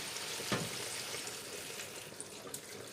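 Broth poured into a pan of sizzling turkey osso buco gives a steady, close frying hiss with a brief splash near the start. No one speaks.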